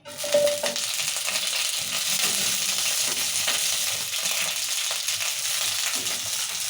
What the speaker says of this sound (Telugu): ఇప్పుడు మళ్ళీ ఆయిల్ వేసుకున్నాం కొంచెం మిరపకాయలు వేసుకుందాం